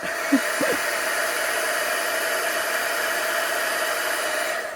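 Heat tool blowing hot air to set a paper craft, a loud, steady whooshing roar that runs without a break and starts with a couple of brief clicks.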